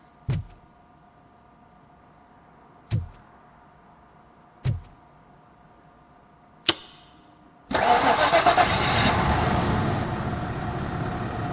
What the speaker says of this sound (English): It started.